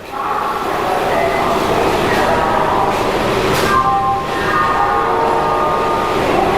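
A loud, steady rumble of a Kolkata local train in motion, heard from a window seat, with metallic squeals and ringing tones rising over the clatter.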